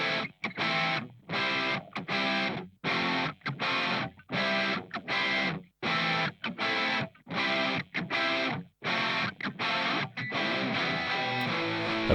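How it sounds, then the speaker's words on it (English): Distorted electric guitars, without an amp simulator plugin, play chopped, rhythmic chord bursts separated by brief gaps, loud and upfront, ending in a sustained ringing chord. "those guitars sound like this"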